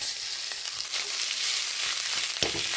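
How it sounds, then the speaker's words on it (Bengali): Ground cauliflower leaf paste frying in oil with chickpeas in a pan, a close, steady crackling sizzle with a few sharper pops, no voices. "ভালো করে তেলের সঙ্গে ফুলকপি পাতাটা ভেজে নেব।"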